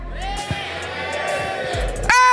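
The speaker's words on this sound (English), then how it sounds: "I'm going to give it over to Bob to lead the cheer battle." A crowd cheers during an esports cheer battle at a Mobile Legends world championship knockout match. The roar is sustained and fairly loud, with sharp thumps and a burst of louder shouting near the end.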